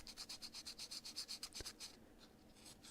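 Sandpaper rubbing paint off a part of an R2-D2 model, heard as a quick run of close, steady scratchy strokes that fade into quieter scraping.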